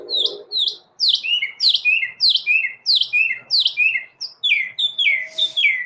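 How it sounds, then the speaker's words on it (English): A pet bird chirps loudly and close by in a quick series of about a dozen sharp, sweeping tweets with brief pauses between bursts. "I will say Chirpy is approaching painfully loud"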